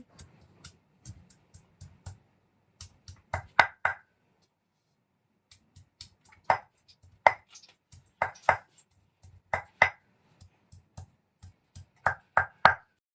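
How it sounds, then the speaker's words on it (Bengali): Ginger and garlic are ground into a paste with rhythmic knocking and crushing strokes on a hard surface, coming in close, uneven clusters separated by brief pauses. "আদা রসুন বেটে নেই"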